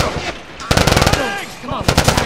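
Rapid bursts of automatic gunfire from enemies in The Last of Us, loud and close, coming in dense volleys with brief pauses between them, while shouted voices and game sound effects are also heard.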